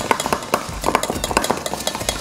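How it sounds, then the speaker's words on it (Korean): Fast, close clinking and scraping of a utensil against a pot as meringue is quickly stirred into dalgona, in quick irregular strokes with faint background hum. "그리고 아까 만들어준 머랭을 넣고 최대한 빠르게 저어주세요."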